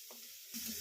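Crushed shallots and chilli hit hot coconut oil for a Kerala-style puzhukku, giving a short, soft sizzle that swells after a quiet start.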